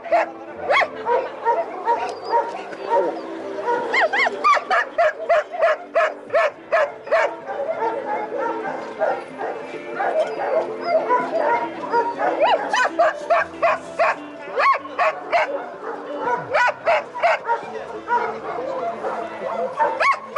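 Yakutian Laika dogs bark loudly and close by in rapid, repeated volleys with brief pauses between bursts, and occasional yips rise over the chorus.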